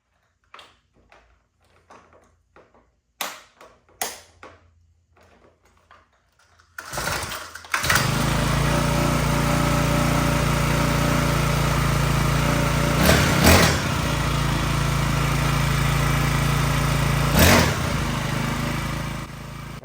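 A small XPRO 40cc gas engine, heard after a few clicks and pumps: it catches with a burst and settles into a loud, steady buzzing run for over ten seconds, with brief revving spikes.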